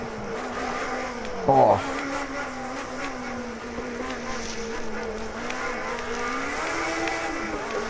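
A race car engine, likely a 1980s Mercedes with a side exhaust, droning steadily through a lap near 4th gear with a short sharp burst like a gear change or backfire early on, heard from inside the car with a brief exclamation.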